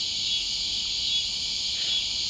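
Carolina ground crickets trilling in an outdoor natural area at night, a dense continuous high buzz that holds steady throughout at moderate loudness with no voices.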